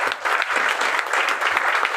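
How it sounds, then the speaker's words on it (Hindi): Loud, steady applause from a seminar audience at a business meeting, dense clapping filling the whole stretch without a break, with no voices rising above it. "आपके लिए एक जोरदार तालियां होनी चाहिए"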